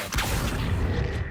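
A short whooshing burst of the Incendio fire spell in Hogwarts Legacy, a single rushing blast that swells quickly and fades within about a second, heard alone.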